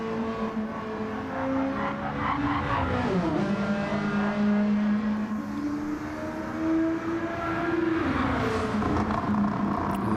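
Touring race cars in a racing video game run at the Kyoto circuit, their engines a continuous loud drone that rises and falls in pitch as they pass, with faint tire noise.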